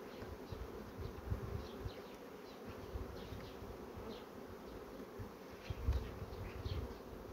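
A steady, dense buzz of many honeybees droning together close by at a hive, with brief louder swells as individual insects pass near.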